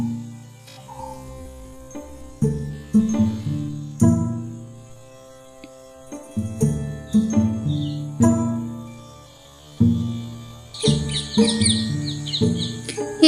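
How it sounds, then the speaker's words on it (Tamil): A small cartoon sparrow trapped in a cave chirps in a children's animated story. High, bright tweets come in short bursts, loudest near the end, mixed with a plucky musical score. "சிறிய குருவி ஒன்று குகையில் சிக்கி தவித்துக் கொண்டிருப்பதை கண்டான்."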